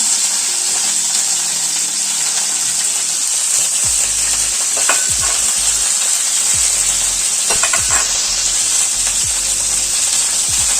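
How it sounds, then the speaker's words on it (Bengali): Okra (lady's fingers) frying in a pan, a loud, continuous bright sizzle held close throughout, with a few soft scraping stirs near the middle and no voices. "এবার এই ভেন্ডিগুলো আমরা ভালো করে লাল লাল করে ভেজে নেব।"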